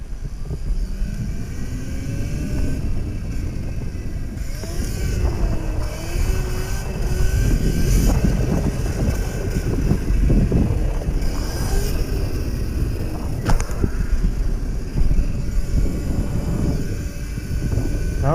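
A mini bike's small engine drones steadily while riding, its buzzing pitch rising and falling with throttle over a continuous rush of wind and road noise, close and fairly loud.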